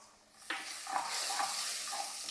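Spices sizzle in hot oil as Kolhapuri chutney and turmeric are dropped in for tempering, a sudden steady hiss with a few soft stirring touches, close and continuous.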